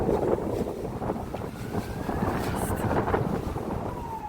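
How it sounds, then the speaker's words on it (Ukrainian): Steady wind roars and buffets the microphone beside a busy road in Kharkiv, Ukraine, a constant low rumble with faint traffic hum beneath, no voices. "тому що вітряно дуже, машин багато біля дороги"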